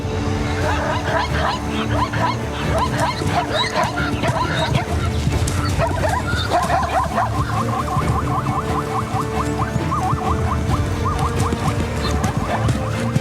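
A pack of African wild dogs regrouping, with busy overlapping yips, whimpers and twittering calls that run continuously and close by, some rapid trilled chirps toward the end.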